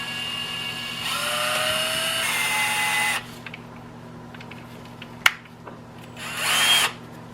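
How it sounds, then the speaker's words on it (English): A tiny drill bit bores into a broken dipstick, a high whining buzz for about three seconds, then quiet with a small click and one more short burst of drilling. "I got a really tiny drill bit going on in here"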